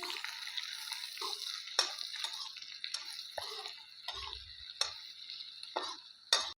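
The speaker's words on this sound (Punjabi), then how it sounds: "ਹੁਣ ਆਪਾਂ ਸਾਰੇ ਸਮਾਨ ਨੂੰ ਆਪਾਂ ਚੰਗੀ ਤਰ੍ਹਾਂ ਕਰ ਦਾਂਗੇ ਮਿਕਸ" A spoon stirs garam masala and amchur into an arbi (taro) curry in a pan, with soft scraping strokes, a few sharp clinks against the pan and a quiet sizzle underneath, close and fairly faint.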